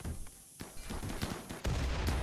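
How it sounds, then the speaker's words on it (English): Dense gunfire and explosions from a firefight in the colony-building video game Rimworld, with rapid overlapping shots and heavy blasts that swell louder near the end, with no talking. "And there's another set of explosions"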